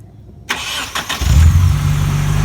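A Nissan Skyline R33 GTST with a GTR front end starts by remote starter: a sharp crank, a few quick catches, then the engine settles into a loud, steady rumbling idle close by.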